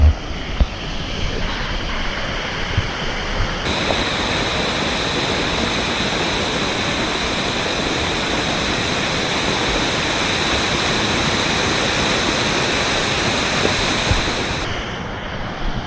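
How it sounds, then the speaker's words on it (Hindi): A deep, tall waterfall in Cherrapunji, Meghalaya roars steadily as a loud, continuous wash of falling water that fills the whole scene without pause. "तो ये काफ़ी गहरा वाटरफॉल है"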